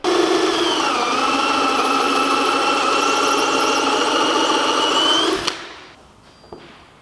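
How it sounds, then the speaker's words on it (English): Step drill boring through the front bumper of a Nissan 350Z, a steady loud whining drone held for about five seconds, then stopping abruptly, followed by a faint knock. "So now we need to start drilling the front bumper."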